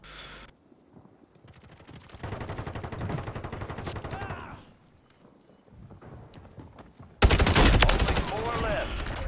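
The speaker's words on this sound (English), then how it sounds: "I'm getting shot at. I don't know where from." Gunfire in a first-person shooter game: bursts of rapid shots in short clusters, quiet gaps between, then a loud sustained volley near the end, with players' voices talking over the action.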